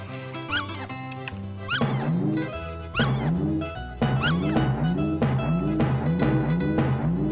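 An alien dog in the video game Earthworm Jim 2 barks in a string of loud, close, tonal yaps that bend in pitch, repeating in a steady rhythm over a pulsing game music bass line.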